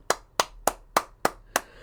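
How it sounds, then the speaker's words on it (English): Six sharp hand claps in a steady, even rhythm, close and crisp, with no talking between them. "I'm clapping."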